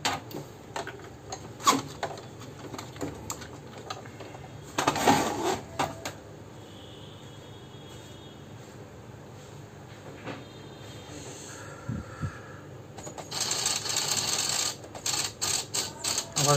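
Brother MFC-430W inkjet printer with a paper jam fault making a strange noise, with uneven mechanical clicks, ticks and whirring bursts of the carriage and rollers over several seconds, close by with no talking.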